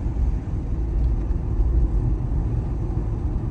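Inside a BMW iX xDrive40 electric car, a soft artificial driving tone blends with a steady low rumble of road and cabin noise, continuous and moderately quiet with no voices.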